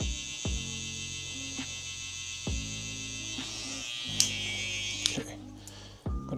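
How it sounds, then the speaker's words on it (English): An electric hair clipper with an echo blade hums and buzzes steadily up close during a drop fade haircut, with brief clicks and handling noises and a person speaking over it. "I like using this clipper right here because it has the echo blade on it."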